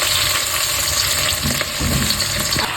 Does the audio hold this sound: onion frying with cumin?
yes